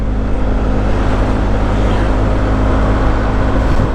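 A motorcycle rolls along a road, its engine giving a loud, steady, low drone mixed with road and wind rush that stays constant throughout.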